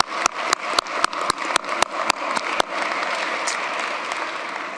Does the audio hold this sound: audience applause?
yes